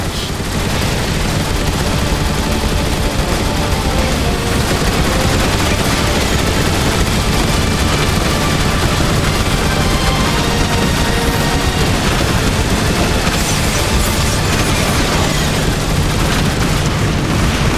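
Dense, continuous gunfire and explosions pound without a break in a Transformers War for Cybertron video game battle, as Autobots focus their fire on a Decepticon warship, loud and relentless throughout.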